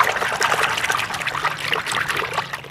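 Water mixed with sugarcane molasses being stirred in a container, a busy trickling and sloshing of liquid, close and fairly loud throughout, with no talking.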